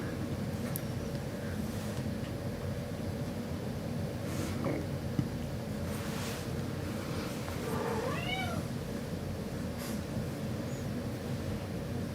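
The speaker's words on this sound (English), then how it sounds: "Cat." A cat meows a few times, rising and falling calls partway through, over a steady low background hum in a room during an acrylic painting session; no talk.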